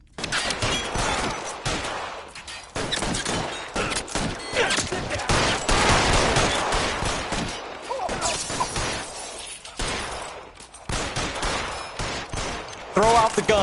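Dense gunfire rings out in the crime video game L.A. Noire, with sharp overlapping shots and bursts filling most of the stretch, loud and close, while voices shout in the mix.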